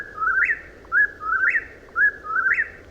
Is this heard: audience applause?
no